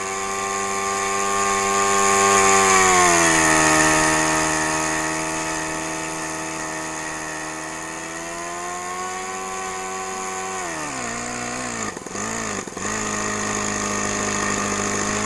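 Engine of a Gee Bee model airplane in flight, a continuous buzzing drone that rises and falls in pitch as it banks through tight turns, with brief dips near the end.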